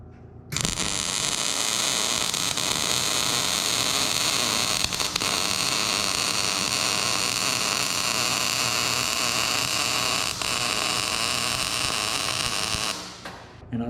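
A welding arc on metal starts abruptly and holds a steady, loud, hissing buzz for about twelve seconds before cutting off cleanly, close up and with no talking.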